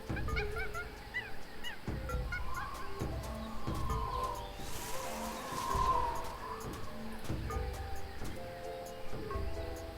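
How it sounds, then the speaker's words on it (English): Noisy jungle ambience in the video game Tales of Monkey Island: birds chirp and call over a soft background hum, with repeated honking and squawking calls spread through the scene. "That jungle sure is noisy."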